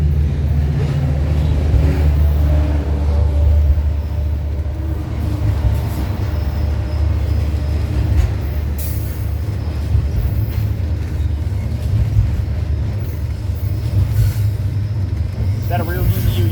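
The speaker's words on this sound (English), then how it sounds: "Metrolink." Metrolink commuter train rolling past at Fullerton near the junction, a steady loud low rumble and wheel noise throughout with a faint horn-like tone, under occasional voices.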